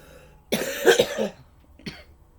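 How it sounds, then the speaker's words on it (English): A single close cough, followed a moment later by a softer short cough, in a quiet room. "I usually cough if I hit something very clear to me"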